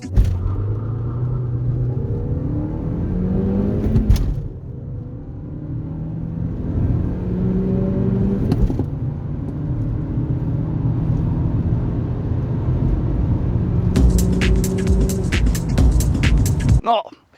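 A 2002 VW Sharan 2.0 minivan with a 115 hp engine accelerates from 0 to 100 km/h, its engine rumbling and rising through several gear changes heard from inside the cabin.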